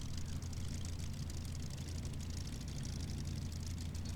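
A P-40 fighter's piston engine runs in the Microsoft Flight simulator, a steady low droning rumble at an even, moderate level with no voices over it.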